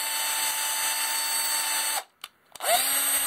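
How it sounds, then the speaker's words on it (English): A handheld drill runs steadily, cutting threads in laser-cut holders, a loud whine that stops briefly with a couple of short bursts and then spins back up. "a drill gun makes quick work of the threads"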